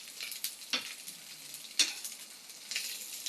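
Squash and meat sizzle and crackle in a hot pan, with a few sharper stirring scrapes and pops over a steady hiss; close and fairly quiet, no talking.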